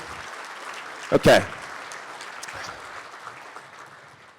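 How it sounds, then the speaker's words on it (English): A brief burst of audience applause erupts at an annual community board meeting, short and fairly loud, surrounded by a speaker talking into a microphone. "Give her a round of applause."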